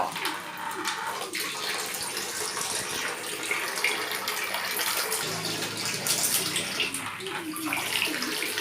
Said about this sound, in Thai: โป้แล้วพี่เมฆอาบน้ำแล้ว